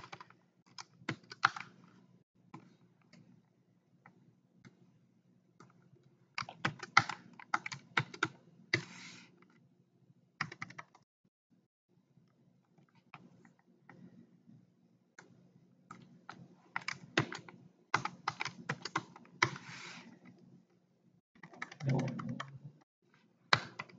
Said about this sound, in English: I don't know why, but I can't type today.